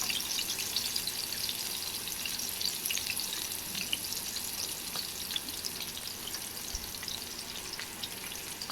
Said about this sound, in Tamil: எறா பொரியிற அளவுக்கு எண்ணெய் வைக்கணும் ஒன்று ஒன்றா போட்டு ஃப்ரை பண்ணுவோம்